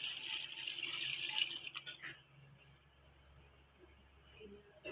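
Water pours steadily into a pot of beef pulao for about two seconds, a bright rushing splash that then cuts off, leaving quiet kitchen background.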